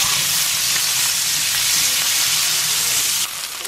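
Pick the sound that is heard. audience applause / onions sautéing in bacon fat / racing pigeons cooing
onions sautéing in bacon fat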